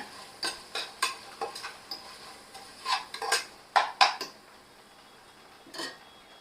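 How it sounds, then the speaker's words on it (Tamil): A spoon scrapes and knocks around a pot while yogurt is mixed into rice, giving irregular close clinks and scrapes spaced over several seconds with no talking. "இது நல்லா கலந்து விட்டுக்கிறேன்"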